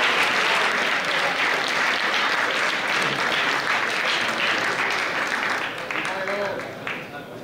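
Loud, sustained applause from a gala crowd as award winners go up to collect trophies at a university campus festival. The dense clapping holds steady before gradually thinning toward the end.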